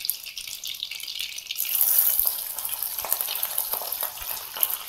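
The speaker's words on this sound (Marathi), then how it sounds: "आता ही मिरची त्याला टाकून घेते," Green chillies hit hot oil with mustard seeds and cumin, setting off a sharp crackling sizzle that swells, then settles into a steady spattering fry.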